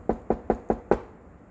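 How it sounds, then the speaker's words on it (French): Five quick, evenly spaced knocks on a door, sharp and close, during a told children's story, with no talking over them. "Il frappe à la porte."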